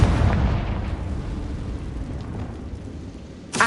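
Confringo blasting spell in Hogwarts Legacy: a loud rumbling explosion that booms at the start and decays over several seconds, with a sharp new burst right at the end.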